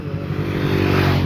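An overloaded motorcycle rumbles steadily and fairly loud, its engine note low and continuous with rattling and scraping under the hum, close by and with no voices.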